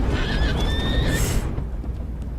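A horse in the Red Dead Redemption 2 video game whinnies with a drawn-out, wavering neigh over low hoof and ambient rumble, close and loud, then fades into quieter background.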